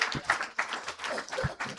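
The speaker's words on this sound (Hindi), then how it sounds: "ताली बजाएं।" A church congregation clapping hands together during a Hindi-language worship service, a steady scattered patter of claps at moderate distance, with no talk over it.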